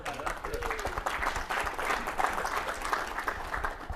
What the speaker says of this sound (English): the clapping needs to be a little bit more exciting than that